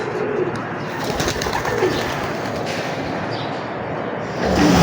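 Racing pigeons, a loft of young fledglings, cooing close by amid a busy, steady background of rustling and ambient noise that swells slightly near the end.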